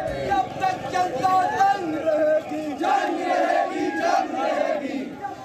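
A large angry protest crowd in Pakistan-occupied Kashmir chanting slogans in loud, continuous unison, with many voices shouting together in a dense, close roar.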